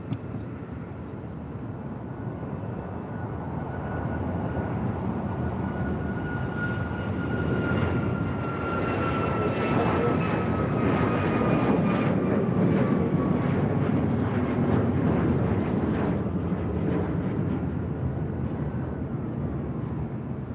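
A United Airlines jet taking off at LAX, a continuous loud roar of jet engines with a descending whine, building and holding for about twenty seconds, no talk over it.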